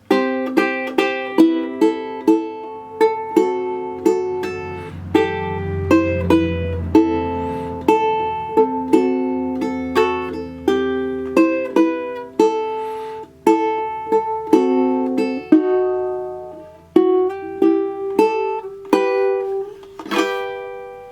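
Solo piano plays a flowing passage of repeated chords and melody notes from a song, steady and clear, with no voices.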